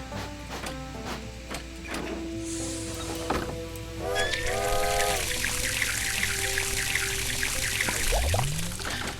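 Water pours and trickles into a steam train's tank during a refuelling stop in The Legend of Zelda: Spirit Tracks, a video game, with mechanical game effects, a rising tone and a continuous bright rushing fill.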